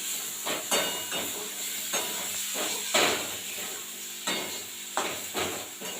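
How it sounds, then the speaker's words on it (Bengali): Eggs frying in spice paste for an egg curry give a loud, steady hiss of steam and sizzle, broken by repeated sharp scrapes and clinks as a spatula stirs the pan. "ডিমগুলো সব ডিমগুলো পরপর দিয়ে দিলাম এই মশলার সঙ্গে একটু ভেজে নেব"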